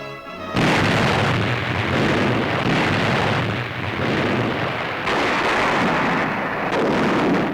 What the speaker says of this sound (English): the Iowa's commander, Captain McCrae, orders her 9 16-inch guns to fire a mighty salvo